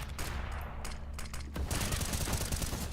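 Rapid gunfire in a Counter-Strike match, with bursts of shots crackling over a low droning background that then give way to dense, sustained firing.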